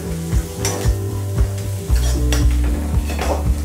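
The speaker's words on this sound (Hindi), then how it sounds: "इसमें हम आधा धनिया पत्ता डाल देंगे और इसे फिर से थोड़ा सा फ्राई कर लेंगे" Spices and coriander leaves fry in a pan for cucumber raita, a loud close sizzle broken by regular scraping stirs of a spoon against the pan.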